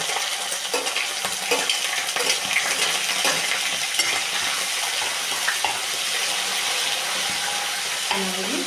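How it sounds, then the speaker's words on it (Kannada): Chopped onions frying in a pan for palak paneer, a steady dense sizzle throughout with occasional stirring scrapes and light clinks, close and fairly loud, no talking. "ಚೆನ್ನಾಗಿ ಹಸಿ ಅಂಶ ಹೋಗೋವರೆಗೂ ಹುರ್ಕೊರಿ, ಫ್ರೈ ಮಾಡ್ಕೊರಿ"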